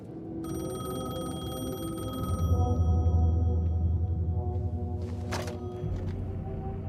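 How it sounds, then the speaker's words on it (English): A payphone rings inside the Alan Wake video game, a steady electronic telephone bell with a sustained ringing tone over a low ambient game drone that swells midway, plus a brief crackle near the end. "The payphone was ringing."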